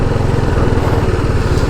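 A TVS Apache motorcycle engine runs steadily in third gear while riding, a loud, close, continuous buzzing putter with a rapid even pulse and no pauses.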